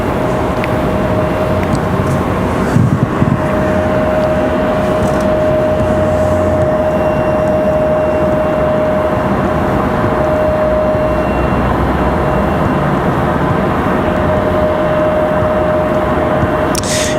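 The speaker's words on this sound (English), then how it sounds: "So again, that Delta is headed to Boston. That is Delta 2393 A220-100." A Delta Airbus A220-100 airliner bound for Boston at Raleigh-Durham airport gives off a steady, even jet engine drone with a thin sustained whine running through it, continuous and unchanging for the whole stretch, with no voices.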